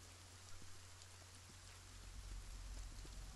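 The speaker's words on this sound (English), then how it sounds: "Nice bit of rain going on here, very peaceful background noises." Steady, soft rainfall in a video game patters continuously in the background, an even hiss with faint scattered drops.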